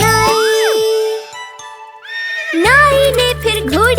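A horse whinnies in a Hindi children's rhyme, a high rising and falling neigh up front, then a quieter jingling stretch before sung music with further neighing resumes, loud and close.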